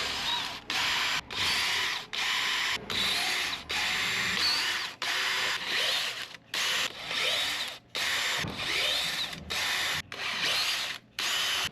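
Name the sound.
tapping threads with a hand tap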